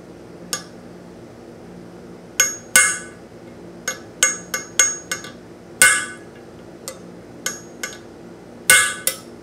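Hammer blows strike a Mercedes 560SL intake manifold part during reconditioning, about fifteen sharp metallic clinks in irregular clusters, close and loud over a quiet background.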